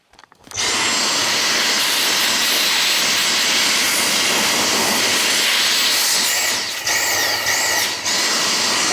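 Dyson V6 cordless vacuum cleaner starting up and running over a bed, a sudden loud high-pitched whine and rushing suction that holds steady, briefly dipping twice as the head shifts across the bedding.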